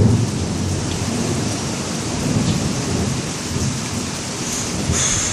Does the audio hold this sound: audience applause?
no